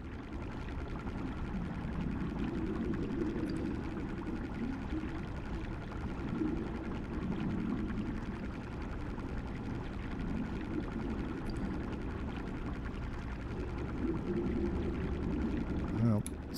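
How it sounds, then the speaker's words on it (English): A steady deep-sea underwater ambience from the SubROV submarine simulator game, a dense low rumbling wash that holds constant throughout with a faint whir, while a voice talks intermittently over it. "I'm loving the deep sea audio."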